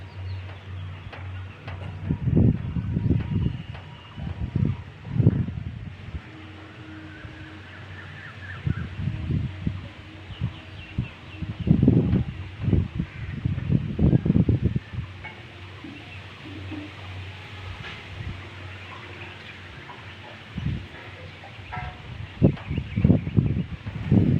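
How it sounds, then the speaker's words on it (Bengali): Strong wind blows across a rooftop beside a pigeon loft in low, buffeting gusts that rise and fall unevenly. Faint bird sounds are scattered in the background. "আজকেও অনেক জোরে জোরে হাওয়া দিচ্ছে গাইস"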